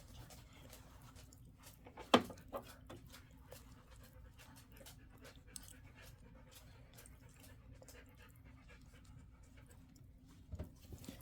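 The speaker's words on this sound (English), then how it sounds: "Panting dogs." Dogs pant softly and steadily in the background, with a sharp brief whimper or yip early on, all fairly quiet against a low room hum.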